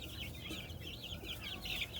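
Several older hens clucking in an outdoor run beside a shed coop, a continuous, busy chatter of overlapping clucks at close range with no talk.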